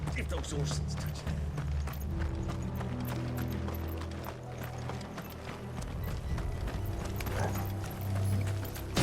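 Horses gallop in Final Fantasy XVI, a rapid, steady run of hoofbeats with clattering mechanical noise and a low rumble over music, with voices speaking in the background.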